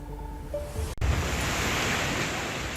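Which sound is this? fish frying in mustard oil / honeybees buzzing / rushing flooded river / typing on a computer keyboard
rushing flooded river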